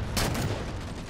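Gunfire in a Halo 4 multiplayer match on the Haven map, a short dense burst of loud shots over a steady roar of game noise.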